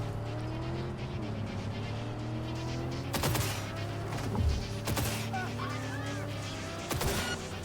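An elimination rally race in Cyberpunk 2077 brings a droning car engine with pitch sweeps as it revs and shifts, cut by several sharp bursts of gunfire-like cracks, with the game's effects layered throughout.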